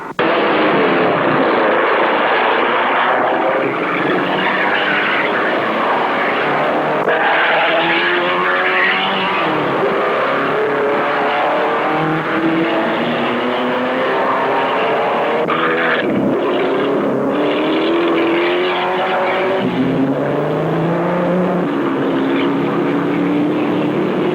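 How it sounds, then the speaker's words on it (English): Formula Junior and modified race cars under 1100 cc, including a Fiat Abarth, roar past at Snyder Corner during a 1960 Grand Prix, a loud continuous engine drone with rising and falling pitch as they broadside the turn. "Race number 5 is made up of the 2 Formula Juniors and modified cars under 1100 cc's."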